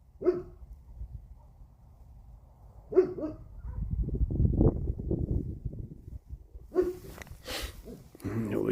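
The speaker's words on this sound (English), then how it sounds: "I don't know what she's barking at" A dog barks three times at spaced intervals outdoors on a quiet, dark night, the barks sounding a few metres off, while a small RC crawler motor whirs and someone talks nearby.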